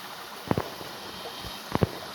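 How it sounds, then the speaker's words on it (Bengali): Water rushes through gaps between huge, house-sized rocks at the Dhumnighat tourist spot in Mahalchhari, Khagrachhari, a soft steady wash with two brief louder splashes. "এই হলো পাথরের ফাঁকে ফাঁকে পানি যাচ্ছে।"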